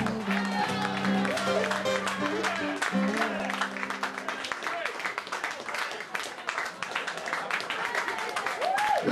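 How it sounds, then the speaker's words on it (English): Concert audience applauding after a live band set, a steady wash of clapping and cheering over music trailing off at the start, with a voice over the crowd. "I know you're still clapping"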